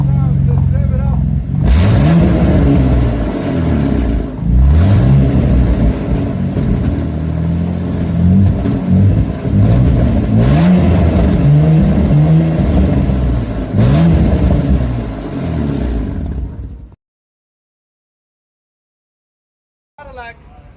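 A Cadillac 3.6 liter V Sport engine with an exhaust leak on both pipes revs repeatedly, its loud rising and falling drone close by before cutting off into silence.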